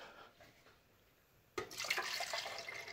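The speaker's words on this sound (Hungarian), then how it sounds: "Szóval öntünk bele vizet." Water poured into the tank of a Nescafe Dolce Gusto coffee machine, a sudden broad splashing gush that starts midway after a quiet stretch and keeps flowing steadily and fairly close.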